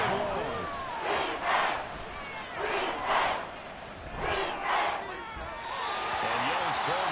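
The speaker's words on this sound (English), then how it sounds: "This crowd turning up the decibel level." Stadium crowd noise in the football video game Madden NFL 24, a steady roar swelling in repeated waves of cheering, with commentators talking over it.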